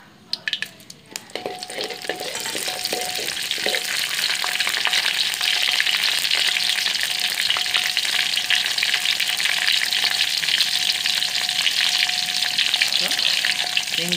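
Tempering hits hot oil for a chayote (chow chow) kootu, opening with a few clinks and stirs before a loud, dense sizzle swells and holds steady, crackling on without any talk.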